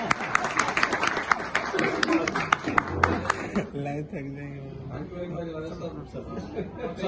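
Applause from guests welcoming a speaker at a dinner party honoring a school principal, steady clapping in the opening seconds that fades into crowd chatter and talk.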